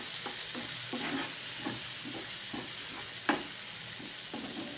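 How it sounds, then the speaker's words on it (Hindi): Tomatoes seasoned with salt and ground black pepper fry in a pan under a steady close sizzle, while a spoon scrapes through them in an even, repeating rhythm with one sharper knock near the end. "नमक, पिसी हुई काली मिर्च और इसको थोड़ी देर पकाएंगे ताकि टमाटर मज़ीद नरम हो जाएं"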